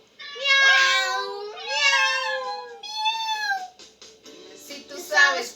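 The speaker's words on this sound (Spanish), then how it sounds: "Si tú sabes cómo hace el gato, vamos a escucharlos tú y yo." A cat meows in a run of drawn-out, wavering calls with short gaps between them, close and clear with no talk over them.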